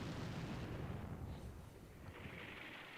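Artillery barrage in the wargame Combat Mission Shock Force 2, a continuous dense rumble of distant shell impacts and booms rolling on without pause, loud and alone.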